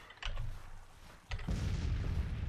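Cannon fire booms in Grand Tactician Civil War, two deep artillery reports heard at moderate distance, the second followed by a sustained low rumble.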